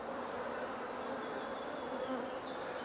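A steady, low drone of many honey bees buzzing together at a hive, close by and unbroken, with no voices over it.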